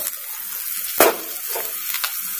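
Turmeric, red chilli and coriander powder fry in a hot pan for a pea and guava curry, giving a soft steady sizzle with one sharp stirring scrape near the middle.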